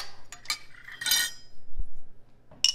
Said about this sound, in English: I am going to get my flour and salt mixed up.